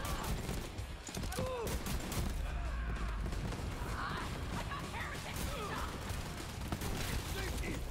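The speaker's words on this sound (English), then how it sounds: "We keep shooting them." Rapid bursts of gunfire from the video game Borderlands 3 sit fairly faint in the background while a voice talks over the action.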